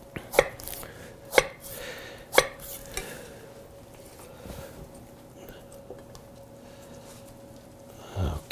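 A knife cuts fruit into wedges on a board, giving three sharp, evenly spaced chops near the start, then a few softer knocks and one last chop at the end, with no talk.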